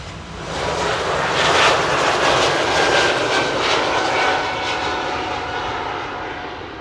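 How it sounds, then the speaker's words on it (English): A KLM airliner on the runway at Amsterdam Airport, its engines giving a loud, sustained roar that swells and eases slightly over several seconds, heard alone without voices. "on the runway right now we have KLM to Stockholm"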